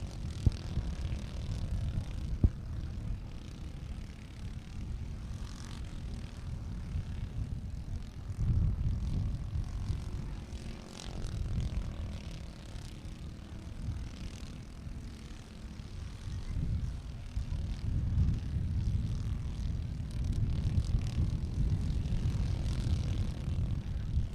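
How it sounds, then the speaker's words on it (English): Racing karts lapping a dirt oval at a regular race program, their engines droning steadily and fairly loud throughout with rising and falling passes, no voices over them. "They are putting down the consistent laps right now, and they are the only 2 karts on the track making any speed right this minute."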